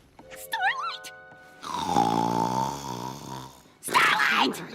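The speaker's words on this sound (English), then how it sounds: "Your snoring is a bit, Loud?" In an animated My Little Pony episode a character snores loudly, a long rasping drawn-out breath between bursts of dialogue, close and dominant in the middle of the exchange.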